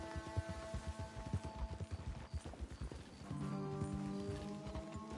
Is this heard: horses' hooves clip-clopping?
yes